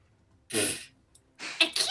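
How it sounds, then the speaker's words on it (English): A single sneeze bursts out close by, followed after a short pause by a second breathy sneeze-like burst. "Hang on, I gotta sneeze."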